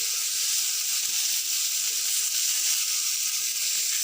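Pomfret sea fish fries in a pan of hot oil, a steady, fairly loud sizzle with a bright hiss that holds unbroken from start to finish, no voices over it.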